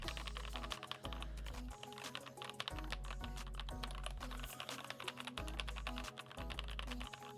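Computer keyboard typing, a dense run of quick key clicks continuing for several seconds under a loud, steady, throbbing music bed.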